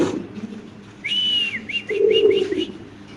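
Fancy king pigeons, including black king birds, at a pigeon farm, with soft low cooing and a series of thin rising whistle-like calls, close and clear over a quiet background.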